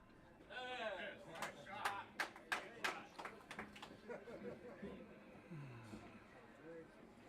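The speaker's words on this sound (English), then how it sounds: "a couple people woke up to clap on that one" A few spectators clapping sparsely after a good shot at a pool tournament, several sharp separate claps over a quiet murmur of voices, with someone talking over them.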